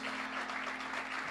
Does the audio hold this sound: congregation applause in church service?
yes